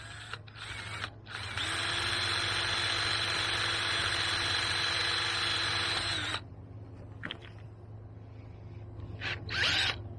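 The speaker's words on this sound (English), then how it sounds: "This will be my starter hole." Power drill boring a starter hole for a banana plant support: a steady high whine for several seconds that cuts off abruptly, followed by quieter handling clicks.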